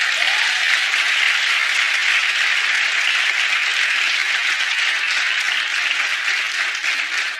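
Television talk-show studio audience clapping loudly and evenly for several seconds, a dense wash of many hands with no voices over it.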